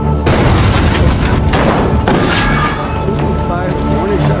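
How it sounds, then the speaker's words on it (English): Heavy booms and blasts of tank shells exploding in a war film, loud and sustained throughout, with dense rumbling low end and layered impacts under background voices. "shot her with tank shells, sending her flying from the explosion to her death"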